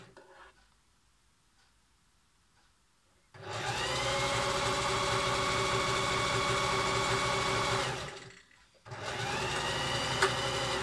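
A sewing machine stitches a cushion cover in two steady, fast-running bursts separated by short pauses, close and loud after a quiet start with no talking.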